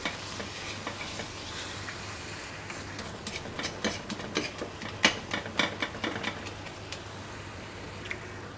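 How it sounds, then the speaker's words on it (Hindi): Tomatoes frying in a pan for baingan bharta give a soft sizzle, with a run of light clicking spoon strokes in the middle, faint and close, without talk. "टमाटर को अब अच्छी तरह भून लेंगे।"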